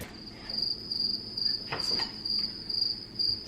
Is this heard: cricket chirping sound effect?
yes